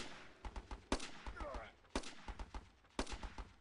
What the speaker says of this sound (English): he finally gets a gun turret out